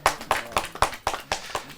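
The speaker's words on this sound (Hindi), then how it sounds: "जोरदार ताली के साथ।" Clapping at a Hindi poetry gathering sounds as a run of about eight crisp, evenly spaced claps in quick rhythm, close and fairly loud.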